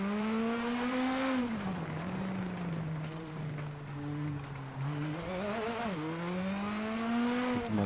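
Rally car lapping a stage in WRC 8, its engine droning and rising and falling in pitch through gear changes and revs, steady and close for the whole stretch with no talk over it.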